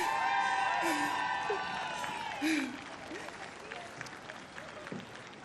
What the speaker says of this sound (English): She's getting the crowd going as well